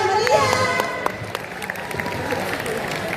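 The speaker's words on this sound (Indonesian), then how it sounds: "Beri tepuk tangan yang meriah." An audience claps and cheers in a busy indoor school space, with scattered sharp claps over a steady murmur and some children's voices.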